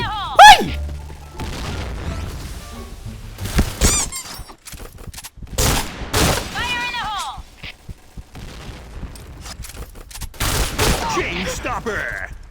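Gunfire in the shooter game Point Blank, with loud bursts of shots, booms and squeaky effects in several clusters, mixed with a talking voice.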